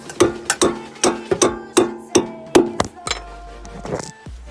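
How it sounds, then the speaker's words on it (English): Several sharp hammer whacks land close by in an uneven rhythm while a new Skunk2 lower control arm is driven into place on a car, each one a bright metallic ring, with a soft scrape near the end. "A few whacks of the hammer."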